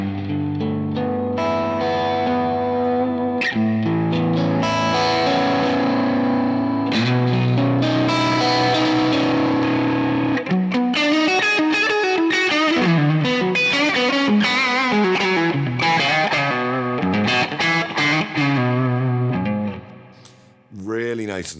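An electric guitar played through a BluGuitar BluBOX pedal using the Fatcab cabinet tone mixes distorted chords and single-note melodic runs with echo and chorus-like shimmer, loud and close, ending in a few sparse notes.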